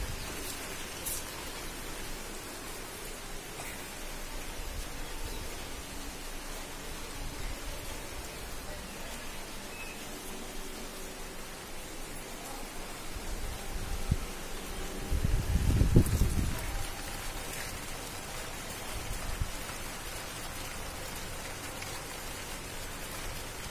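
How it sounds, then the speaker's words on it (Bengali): Steady rain falls outdoors near a house and garden, a broad even hiss of drops hitting surfaces, with a brief louder rumble about two-thirds of the way through. "কি সুন্দর ওয়েদার, বৃষ্টি পড়ছে, বাইরে বৃষ্টি হচ্ছে।"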